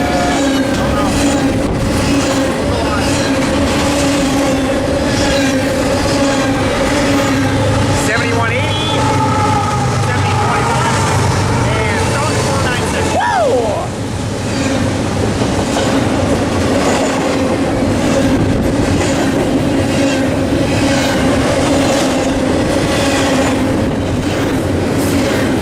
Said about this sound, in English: when you stand here and you just watch the train fly by your head,